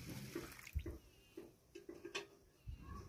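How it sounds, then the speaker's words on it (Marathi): Water poured from a bucket onto soaking rice, arriving in several uneven splashing bursts at close range with short gaps between them and no voices. "तर बघा हे पाणी टाकते मी आता."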